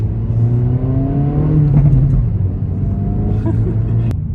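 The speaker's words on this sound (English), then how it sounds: "The exhaust is pretty good. It's got some good burbles to it already." A 2024 Acura Integra Type S engine and exhaust rumble close by with a deep, steady burble, revs rising and easing in smooth sweeps before a brief sharp click near the end.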